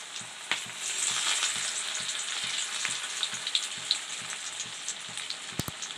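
Steady sizzling and crackling of vendakkai (okra) vadai, a chana dal fritter, frying in hot oil, with soft pops and a couple of sharp clicks near the end.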